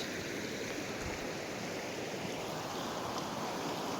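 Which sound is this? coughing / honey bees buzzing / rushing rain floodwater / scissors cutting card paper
rushing rain floodwater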